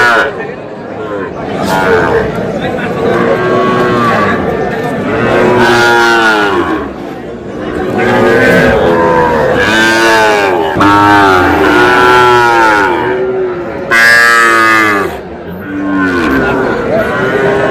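Sahiwal bull calves at a Barisal cattle market low repeatedly in long, loud, close moos, one after another, over a steady babble of voices and crowd chatter.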